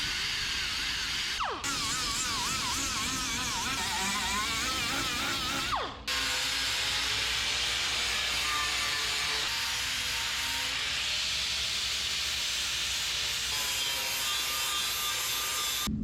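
A flap disc on a grinder puts a bevel along the sheet-metal bed edges of a Chevy square-body truck being converted to a short bed. The abrasive grinding is loud and continuous, with its pitch wavering as pressure shifts and two brief dips.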